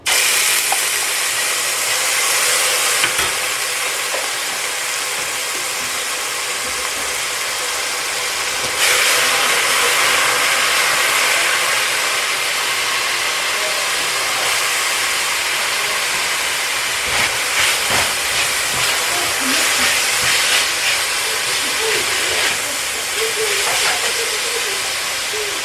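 Minced garlic sizzling in olive oil in a pot for vegetable soup, a steady bright hiss that holds for the whole stretch with a few small crackles and a brief surge partway through.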